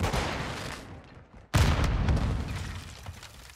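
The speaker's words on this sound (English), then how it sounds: "Throwing flash grenade!" Sudden loud blast at mid-clip from a flash grenade in Modern Warfare 2 gameplay with an M4, followed by dense continuous gunfire and rumbling combat noise, preceded by quieter battle din.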